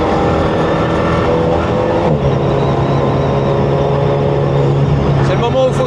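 An Alpine A110 Schirmer GT sports car accelerates hard, its engine droning loud and steady with rising tone and a brief gear shift, close and dominant throughout.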